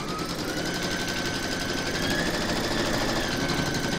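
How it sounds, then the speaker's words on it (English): A home embroidery machine stitches an in-the-hoop placement outline for a large sloth appliqué, giving a steady, rapid mechanical chatter that runs evenly and loudly for the whole stretch. "And then you're going to stitch round number one, and that's going to give you your batting placement outline."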